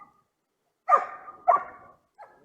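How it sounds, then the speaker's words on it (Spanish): Agitated dogs at a bonsai nursery bark three times in quick succession, sharp and fairly close, the last bark softer, with no talking. "los perros están un poquito alterados"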